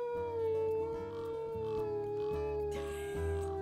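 A wolf in WolfQuest howls with a long, steady, clear tone that holds across the whole stretch, loud and close, over a low rhythmic game music background.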